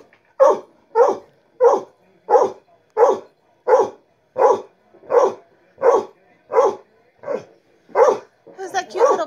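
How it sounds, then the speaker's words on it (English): A puppy barks at a new TV set sitting on the floor, about fourteen sharp, evenly spaced barks at a steady rhythm, close and loud, growing busier and more overlapping at the end. "Let's see what Marley thinks of his own video."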